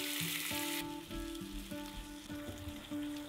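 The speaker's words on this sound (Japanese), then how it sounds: "全量をフライパンに戻して少し火を弱めてからタレを加えます。" Meat sizzles in a frying pan after a sauce is added for a meal-prep lunch box, a continuous close hiss of frying under light background music, with no talking.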